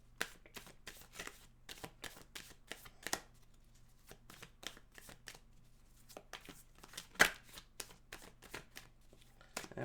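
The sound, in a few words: shuffling tarot cards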